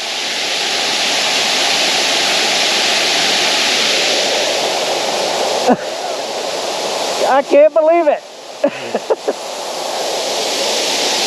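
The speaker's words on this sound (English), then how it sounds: "That's a great waterfall." A large waterfall at Savage Gulf State Park gushes with a dense, continuous roar that fills the whole clip. Near the end a few brief excited voices cut in over the rushing water.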